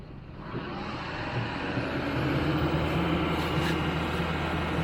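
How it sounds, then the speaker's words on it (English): LBZ Duramax diesel pickup truck with an upgraded oil pan, accelerating on a street: a loud, steady engine roar that builds slightly over a few seconds, heard close with no talking. "I'm gonna see what this truck can do on the street."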